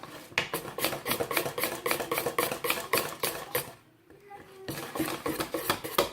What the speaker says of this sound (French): Mélangez bien.